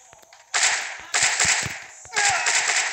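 Gunfire in a video game, three loud bursts of rapid cracking shots separated by short pauses, each decaying into a brief noisy tail.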